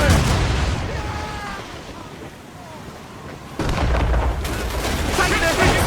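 Ship cannons fire in Assassin's Creed Rogue during a naval battle, with heavy booming volleys and a rumbling roar that swell again partway through amid battle noise.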